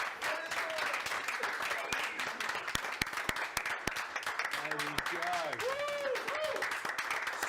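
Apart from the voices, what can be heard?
applause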